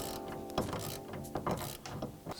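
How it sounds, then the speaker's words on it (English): A 10 mm wrench working a sway bar end link nut on a Dodge Challenger, a quick series of close metallic ratcheting clicks in short bursts. "you're gonna have to get a wrench and a 10 mil to take it out"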